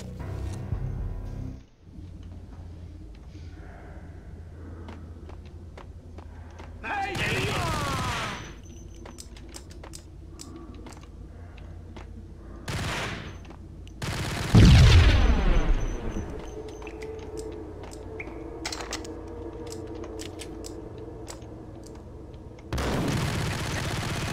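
Gunfire in the 2001 video game Max Payne comes as several sharp bursts and volleys with one heavy booming blast near the middle, set against quieter game ambience between the shots.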